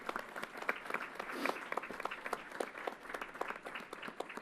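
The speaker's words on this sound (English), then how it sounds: "Let's give them a big round of applause." Audience applause at Yankee Stadium during a public announcement, a sustained patter of many hands clapping at moderate distance, swelling briefly then settling to an even roar.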